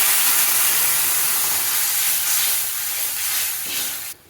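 Loud, steady hiss of water hitting a hot pan of fried fish, a dense sizzle that holds for several seconds, then cuts off sharply near the end.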